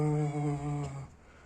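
A single drawn-out cat meow, clear and close, lasts about a second and then fades into quiet room noise.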